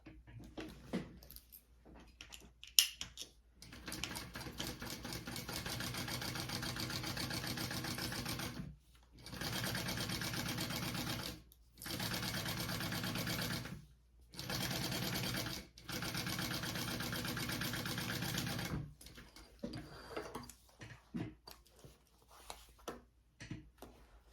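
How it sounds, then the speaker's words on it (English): A sewing machine stitches a bag seam in several bursts of rapid mechanical whirring separated by short pauses, with quieter handling and ticking sounds at the start and end. "go ahead and sew that at the seam allowance"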